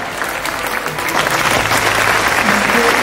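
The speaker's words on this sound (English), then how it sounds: "Give him a standing ovation for this." An audience applauds at a corporate mentalism show at India Club Dubai, giving a steady, loud burst of dense clapping that fills the room for several seconds.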